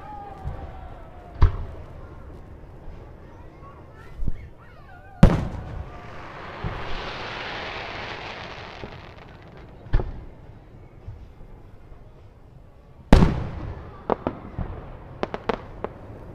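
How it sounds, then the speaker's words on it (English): Fireworks burst overhead in a series of loud, sharp bangs, several isolated booms spaced seconds apart, then a quick crackling cluster near the end, with a softer hissing shower between blasts. "I got y'all right up under the fireworks too."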